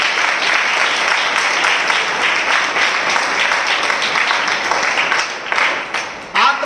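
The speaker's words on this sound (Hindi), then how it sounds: "जोरदार तालियों से उनका स्वागत करें।" Loud, dense applause fills a spiritual revival assembly, a continuous wash of clapping from a large crowd that dips briefly near the end.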